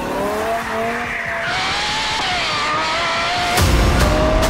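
A car engine revs hard with tires squealing, a loud rising whine climbing steadily before a harsher burst of skidding and roaring near the end, heard up close with no talk.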